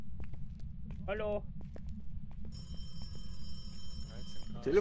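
A telephone in the Phasmophobia ghost-hunting game starts ringing partway through with a sustained, high bright tone. It sits over a low background hum, with faint footsteps and a brief voice-like sound earlier.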